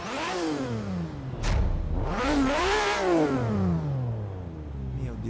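Nissan Skyline GT-R R32 engine in the Forza Horizon racing game, revving hard through several rising and falling sweeps with a brief shift blip, loud and close with no talk.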